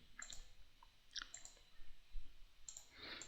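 A computer mouse clicks quietly and sporadically, several light, crisp clicks spread out with pauses, as drafting work is done in CATIA software.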